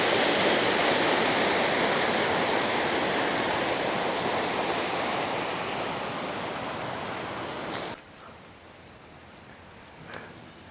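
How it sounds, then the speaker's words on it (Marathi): Water rushing steadily under a bridge near Dapoli, on the route from Harne, a loud, continuous broadband roar that cuts off abruptly near the end, leaving quieter outdoor ambience. "तिथून एक पूल आहे, त्या पुलाखालून पाणी जात आहे"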